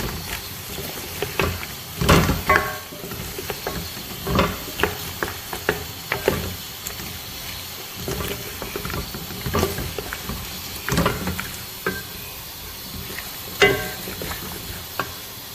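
Potatoes and cauliflower fry in a pan for gobi gosht, a low sizzle broken by repeated scraping and clattering stirs at an uneven rhythm, close and alone without talk.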